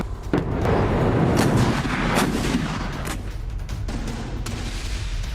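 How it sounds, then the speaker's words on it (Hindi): Chinese PLA rocket and howitzer artillery fire during a training exercise: loud, overlapping booms and blasts that roll into a sustained rumble, with no voices. "रॉकेट और होवित्जर तोप से ट्रेनिंग की ये तस्वीरें सामने आई हैं।"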